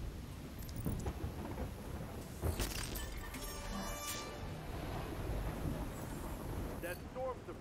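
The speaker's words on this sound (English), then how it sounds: "That storm's the first sign that the cycle's about to start over." Rumbling thunderstorm noise in The Cycle video game rolls on steadily, with a broad wash of wind and rain-like hiss and a sharper crack partway through, loud and continuous with no voices.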